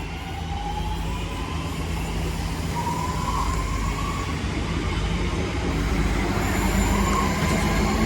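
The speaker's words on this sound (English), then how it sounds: "there goes the 1135 West Midlands Railway service to Four Oaks via Birmingham New Street" A West Midlands Railway train departs University station in Birmingham with a steady, rumbling drone and faint tonal whines, growing slightly louder toward the end.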